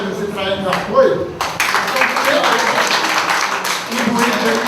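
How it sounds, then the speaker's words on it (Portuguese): An audience at a community meeting in Governador Valadares breaks into applause for colleagues from support staff, a thick wash of clapping that starts after a few words from a speaker and continues steadily at close range. "eu vou pedir uma salva de palmas"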